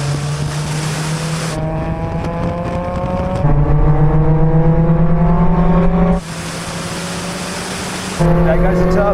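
Mazda Roadster MX-5s, stock, turbocharged, supercharged and 2.5-liter, pulling hard from 50 mph in a rolling half-mile race, loud engine notes climbing steadily in pitch through the gears with brief drops at shifts.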